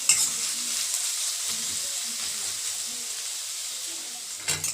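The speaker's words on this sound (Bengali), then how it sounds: "পেঁয়াজটা কিন্তু খুব ভালো করে ভাজা হয়ে গেছে, একদম গোল্ডেন ফ্রাই" Sliced onions fry to golden brown in oil for a home-cooked chicken biryani, giving a steady, close hiss of sizzling throughout with a few faint stirring knocks and a brief louder scrape near the end.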